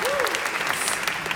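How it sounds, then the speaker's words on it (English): Audience applause in a studio setting, a brief dense patter of clapping hands, steady and moderately loud throughout. "You can applaud."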